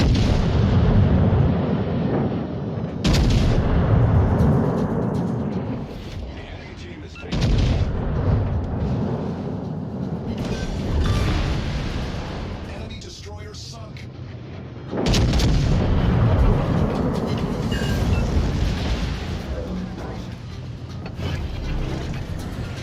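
Warship secondary guns in World of Warships Legends fire in repeated heavy booming bursts with rumbling explosions, loud and near, under intermittent talk.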